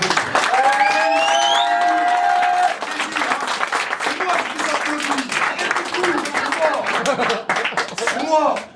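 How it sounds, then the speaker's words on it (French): A live comedy audience applauds, a dense sustained burst of clapping and cheering with whistles and shouted voices rising through it, loud and close throughout. "Par applaudissement, montrez-lui comment vous avez vécu le truc."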